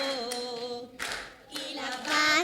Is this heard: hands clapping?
yes